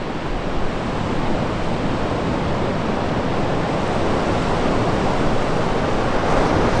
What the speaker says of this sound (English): 90-mile beach, absolutely stunning